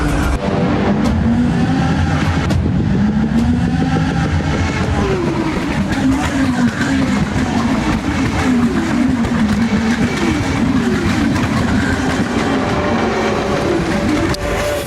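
Rally race cars competing at a Rally X event, engines droning loudly and continuously with rising and falling pitch sweeps as cars pass, set against a steady roar of track noise throughout.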